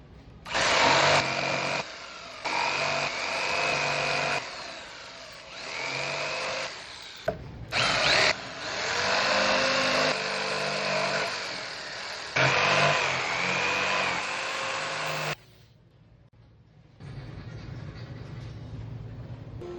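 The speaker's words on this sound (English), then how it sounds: "I also drilled the hole inside of the handle so the jigsaw could cut that out as well" A power drill bores a hole in a raw walnut slab handle, then a jigsaw cuts out the shape in long, loud, steady buzzing runs broken by brief pauses.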